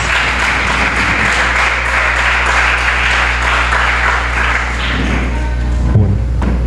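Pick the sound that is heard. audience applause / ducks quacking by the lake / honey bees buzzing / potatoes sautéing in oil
audience applause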